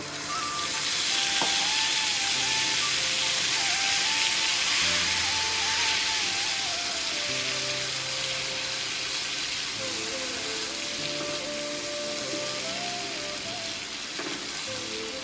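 Coriander and green chilli gravy poured into a cumin and asafoetida tempering for Kathiyawadi pau bateka, hissing in a loud, steady sizzle that fades slightly over time, with no talk.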